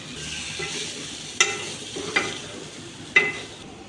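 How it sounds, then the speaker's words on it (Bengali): Spices with garam masala, turmeric and chili being stirred in a pan for chicken curry: a steady low sizzle with three sharp scraping strokes of the spoon spaced about a second apart, no voices. "হলদি মরিচ দেওয়ার পরে কিছু গরম মশলা দিয়ে দিলাম নাড়াচাড়া করবো"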